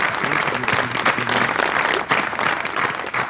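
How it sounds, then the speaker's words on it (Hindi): Studio audience applause greets a singer as he walks onto the Hoshyariyan talk show, a dense, steady wash of many hands clapping with faint music underneath for the whole stretch. "तो आइए तालियों में इस्तकबाल कीजिए"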